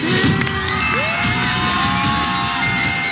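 A studio audience at a Thai television show cheers and shouts loudly and steadily, with whoops and bangs rising over the din and music tones running underneath.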